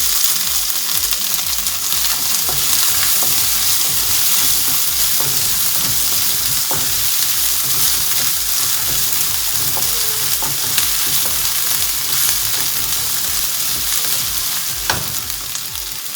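Onion and ginger garlic paste frying in a pan for bhindi do pyaza, a loud continuous sizzle with soft scraping stirs throughout, no voices.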